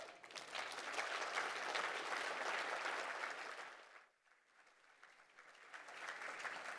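Broad audience applause after a keynote speech at the Ausbanking 2025 conference, a dense wash of clapping that fades out, dips briefly, then swells again, heard at a distance and fairly soft.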